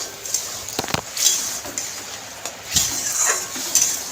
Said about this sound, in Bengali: এবার আমি ভালো করে নেড়ে চেড়ে একটু কষিয়ে নেব।